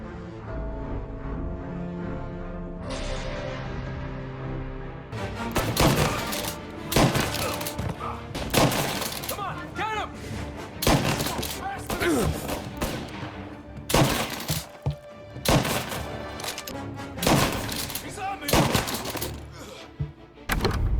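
A pump-action shotgun fires repeatedly in the Mafia video game, a rapid series of loud, close blasts with crashing impacts between them, following a quieter stretch at the start.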